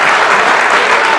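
Audience clapping at a Punjabi comedy stage drama show, a dense steady burst of many hands applauding together, loud and close, lasting briefly without any voices over it.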